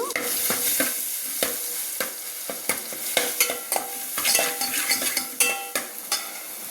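Masala fries in hot oil for cucumber curry, with a bright, loud sizzle and rapid scraping strokes of a spoon stirring close by, heard alone without talk.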